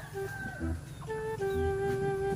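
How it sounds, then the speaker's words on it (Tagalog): Gobbles and calls from a domestic male turkey ring out clearly over a steady low rumble, with a few shorter clucking notes, close by and fairly loud. "Update tayo sa ating alagang pabo."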